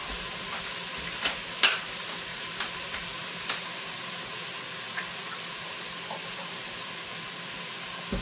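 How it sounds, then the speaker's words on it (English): Cream goes into a pan of mushrooms and celery cooking on the stove, under a steady loud sizzle with a few faint light clicks of a utensil scattered across it. "I'm going to add some cream now."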